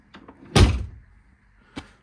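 Car door on a Lotus Elan restomod being shut, a few faint handling clicks, then a solid close thud, followed by a lighter latch click, heard nearby without speech.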